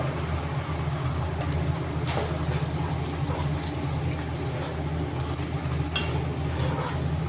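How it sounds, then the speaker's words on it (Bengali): Ginger garlic paste frying with onions in hot oil for chicken biryani, a steady continuous sizzle with faint stirring, close and even throughout with no talk. "পেঁয়াজটা তেলে সুন্দর করে ভেজে নিয়েছে, এরপর আদা রসুন বাটা দিয়েছে।"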